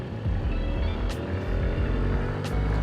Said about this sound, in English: So this is a 49cc scooter, guys.